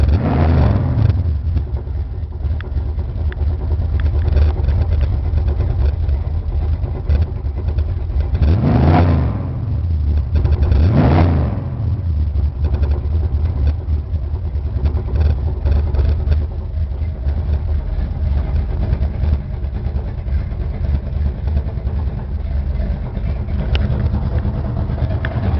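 A car engine idles and revs twice, with a rough mechanical knocking from the exhaust pipe hitting underneath running under the steady drone.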